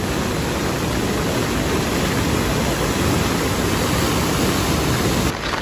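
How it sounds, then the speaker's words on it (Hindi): Water released from the Bhimtal dam in Uttarakhand rushes in a loud, steady roar that fills the whole stretch before cutting off abruptly at the end. "मैं एक्चुअली डैम के पास में खड़ी हूँ, उन्होंने पानी छोड़ा है बिकॉज पानी बहुत ज़्यादा है."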